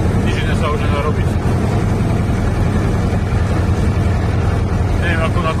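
A Zetor 4011 tractor engine runs steadily while driving through deep mud, a loud, continuous low diesel drone that stays close and unbroken throughout.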